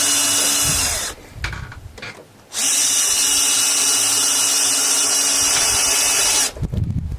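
A power driver runs screws back into the original holes of a Squier Affinity Stratocaster neck, with loud sustained whirring bursts near the mic, a short pause and stop near the middle, then a final brief burst.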